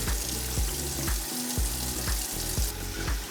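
Water splashes and gurgles steadily through a mason jar of sprouting China Rose radish and purple kohlrabi seeds during rinsing, with repeated sloshing bursts and clinks close up, no talk.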